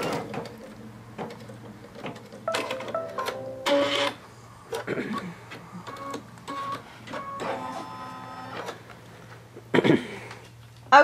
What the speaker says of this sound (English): So I'm just going to go ahead and at this point go ahead and sew that one as well.